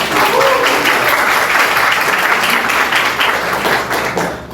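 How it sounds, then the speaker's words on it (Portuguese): Steady applause from an audience at a journalism event, dense clapping filling the room at full volume for several seconds before easing slightly at the end. "Por favor, aplausos."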